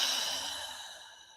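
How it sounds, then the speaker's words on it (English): A single deep exhalation, close and soft, a breathy sigh that fades steadily over about a second with no talking. "So I'm just going to take a deep breath."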